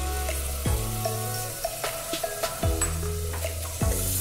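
Tomato, ginger and garlic paste sizzles with masala in a hot pan, with repeated scraping strokes of a spoon stirring through it over a steady frying hiss.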